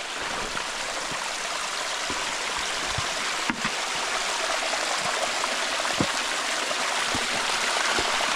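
A small waterfall of clear water on a wilderness hiking track in Tasmania flows as a steady, close broadband rush with scattered droplet splashes throughout, and no voices.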